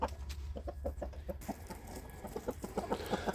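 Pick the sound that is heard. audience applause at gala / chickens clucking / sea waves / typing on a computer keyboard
chickens clucking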